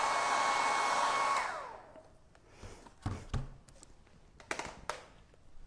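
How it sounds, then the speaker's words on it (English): A hair dryer blows steadily at close range over a freshly painted transfer on a decorative sign, then switches off after about a second and a half, leaving soft taps and handling knocks. "Just hit that with a little bit of hairdryer to make sure it's super dry."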